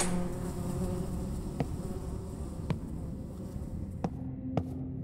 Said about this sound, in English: There's mosquitoes too